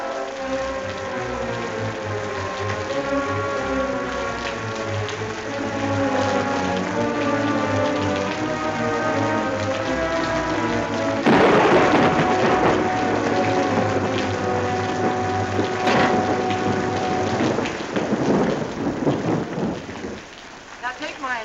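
Heavy rain pours in a steady, dense hiss as a 1948 radio drama sound effect, with low rumbles like thunder rolling beneath it throughout.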